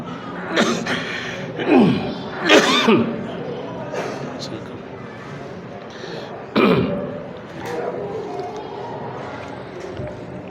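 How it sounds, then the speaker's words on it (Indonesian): Someone talks with a few rough coughs and throat-clearing bursts breaking into his speech, close to the microphone. "Saya dari tadi nih batuk ya."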